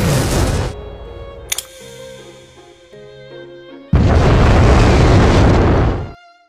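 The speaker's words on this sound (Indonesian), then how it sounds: "Boss yang meledakkan senjata Tengunya hingga terjadilah ledakan" Massive explosion from a detonated Teshin weapon in the anime Akame ga Kill, a sudden loud broadband roar that swells in, cuts to quieter tonal music, then returns as a long sustained blast before fading out.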